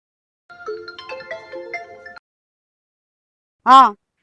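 A melodic phone ringtone plays a short tune of bright tones, then after a pause of silence a single loud tonal burst follows.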